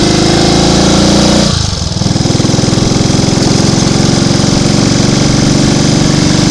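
A Triumph Tiger Cub motorcycle engine runs loud and close on a ride along country lanes, a steady throbbing putter that dips briefly before settling back into an even, continuous beat, with no voices.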